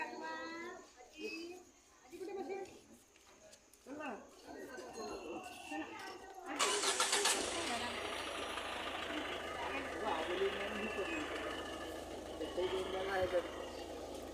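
A car engine starts partway through and runs at a steady idle while moving off, preceded by family voices saying goodbye and continuing softly over the engine.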